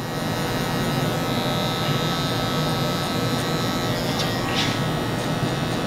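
Wahl Magic Clip hair clippers buzz steadily while cutting a high drop fade in a barber session, a close, continuous electric hum with small shifts in tone as the blade moves through the hair.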